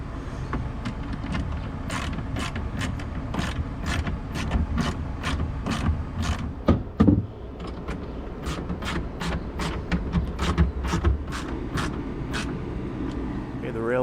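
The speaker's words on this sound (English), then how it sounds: "we will tighten everything down" Rails of a BAKFlip MX4 tonneau cover are tightened down on a 2026 Toyota Tundra, giving a steady run of sharp, evenly spaced ratchet-like clicks over a continuous background noise.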